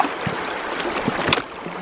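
Splashing steps while wading across a creek on a backcountry trail, water churning around the legs in a few uneven surges over a steady rushing stream.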